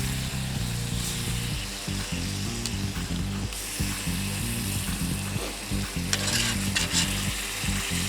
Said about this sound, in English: It's a real thin piece of steak on a real hot grill